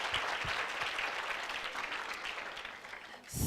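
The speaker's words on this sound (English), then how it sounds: "Can you please give them a round of applause?" An audience at a matric top achievers' honouring ceremony for social development applauds for matriculants and foster parents, a steady, fairly distant wash of clapping with no voices over it.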